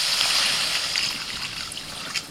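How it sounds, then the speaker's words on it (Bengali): Water poured into a pan of spiced curry masala cooked with chilli and coriander powder, a steady close hiss and trickle that fades slightly before a small knock at the end. "এবার আমি জল দিয়ে দিচ্ছি।"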